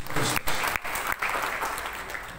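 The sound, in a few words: church congregation applause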